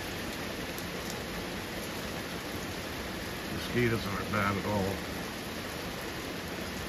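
Steady rain falls at night beside a porch, a soft even hiss with scattered drops, while someone speaks briefly over it midway.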